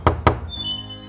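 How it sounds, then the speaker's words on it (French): Two sharp, close knocks land on a door in quick succession, followed by a faint lingering tone and quiet. "quelqu'un frappe à la porte de Coccinella"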